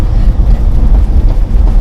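A 1971 Chevrolet C-20 Fleetside pickup rolls over a rough road under construction, giving a loud, steady low rumble of road and wind noise inside the cab for a couple of seconds.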